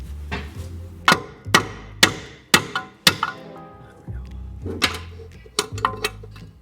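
Repeated sharp hammer blows ring out close by on Subaru suspension, about a dozen strikes in uneven bursts with short pauses between groups.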